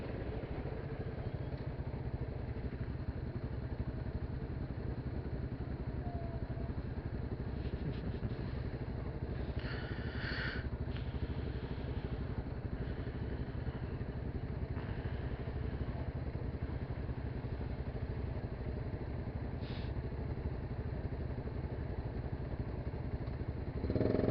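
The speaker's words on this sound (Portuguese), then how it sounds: "Hoje em dia não é mais viável você usar uma moto dessas no dia a dia." An older motorcycle engine idles steadily at close range, a constant low rumble with a faint clatter running throughout, no voices.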